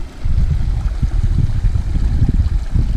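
A brook running through a hillside property and swollen after heavy rain, rushing steadily in a close, full, low roar and heard alone.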